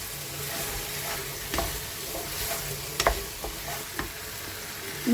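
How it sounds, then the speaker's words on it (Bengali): Onion masala sautéed in a pan for an egg curry: a soft, continuous sizzle with several spatula scrapes and knocks against the pan. "আমি ভালো করে কষিয়ে নেবো"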